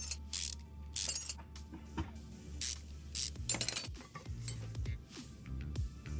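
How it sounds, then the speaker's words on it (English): Mechanical clicks, ratchet-like clatters and metallic taps from unscrewing gearbox bolts in the Car Mechanic Simulator 2021 game, a busy series of short bursts over a steady low hum, with no talking. "Now, into the gearbox we go. Plenty of screws to remove here."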